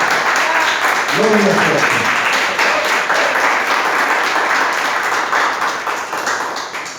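A Spanish-speaking church congregation claps during a Christian service, a broad, even round of applause running throughout while a voice speaks briefly over it near the start.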